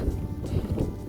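Strong wind gusts buffet the microphone on a high mountain pass amid light snow, hail and rain, a loud rushing roar over about a second.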